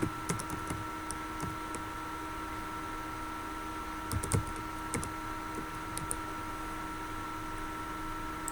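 Computer keyboard keys tapped while a consumer number is entered on an electricity company's web form: short bursts of close, crisp clicks near the start and again midway, over a steady electronic hum, with no talking.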